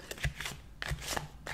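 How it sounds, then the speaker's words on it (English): Tarot cards shuffled by hand in an ASMR tarot reading: quick, close riffling and soft slapping bursts that repeat several times over a short stretch, crisp and unvoiced. "Just listen to the sounds of shuffling."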